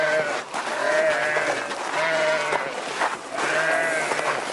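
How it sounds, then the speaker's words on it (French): Goats and sheep in a desert herd bleat repeatedly, wavering cries in overlapping bursts over a steady outdoor background, moderately close. "des chèvres et des moutons"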